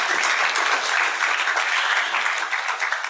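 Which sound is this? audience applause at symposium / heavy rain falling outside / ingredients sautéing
audience applause at symposium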